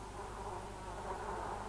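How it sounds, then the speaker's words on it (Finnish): Flies buzz steadily inside a jam jar, a continuous faint droning hum with no other sounds. "Kohta koko valtakunnan kaikki kärpäset pörräsivät purkissa."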